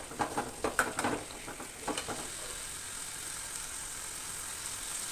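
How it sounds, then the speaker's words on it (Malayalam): Onions sizzle in hot coconut oil while a spoon stirs them in a few quick scrapes at first, then the frying settles into a soft, steady hiss alone. "അപ്പോൾ ഉള്ളിയൊക്കെ ഒന്ന് നല്ലോണം മൂത്ത് വരട്ടെ"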